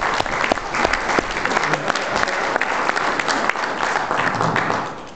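A small audience claps steadily after a talk at the Glastonbury DTC, a dense, even patter of applause close by that holds for several seconds without cheering.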